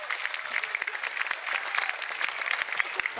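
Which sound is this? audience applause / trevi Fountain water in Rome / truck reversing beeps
audience applause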